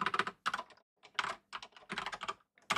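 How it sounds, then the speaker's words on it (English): Fast typing on a computer keyboard, close and fairly loud, in uneven bursts of rapid key clicks separated by short pauses, with no talking. "I'm typing."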